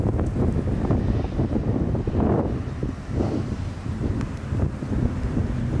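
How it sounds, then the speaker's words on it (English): Strong wind buffets the microphone at an outdoor skate park built by local skaters, a loud, continuous roar with gusty surges and no voices. "Yeah, it's so windy right now"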